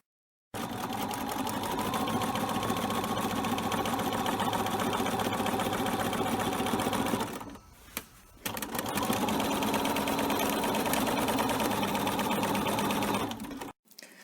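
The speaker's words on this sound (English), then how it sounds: "Starting to quilt from the center on a home sewing machine." A home sewing machine runs at a rapid, steady stitching rhythm while quilting cotton fabric with fine cotton thread and a thin needle, stopping briefly midway before running on again, close and unbroken.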